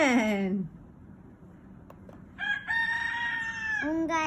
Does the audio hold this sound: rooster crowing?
yes